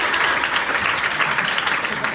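A crowd applauds steadily for a first-prize award at a sub-junior and junior drop roball championship, with dense, even clapping for about two seconds at close range.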